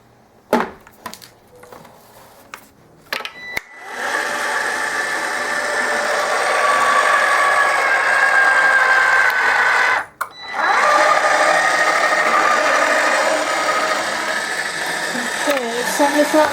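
An eBosser embossing machine feeds material through with a well-worn A plate. A few sharp clicks and knocks come first, then a loud, sustained grinding whir that cuts out briefly midway before resuming.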